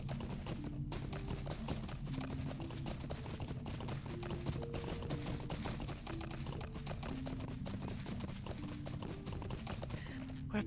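Horse hooves clip-clop steadily in Lord of the Rings Online, a quiet, even trotting rhythm over a constant low ambient hum throughout.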